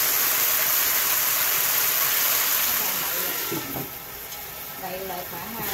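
Steady loud sizzling and hissing from a hot pan of string beans stir-fried with shrimp, easing slightly near the end as a little water hits it, with faint voices in the background.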